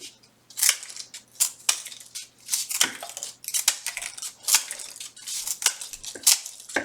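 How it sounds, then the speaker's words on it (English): Scissors cutting two paper strips at once, a quick series of sharp crisp snips in an irregular rhythm, close and loud with no talking. "I might as well cut 2 strips at once."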